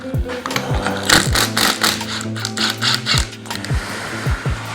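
A ratchet with a 17mm socket loosens the flywheel nut on a Yamaha YFZ450R engine, giving repeated quick clicking strokes close up with metallic ringing between them.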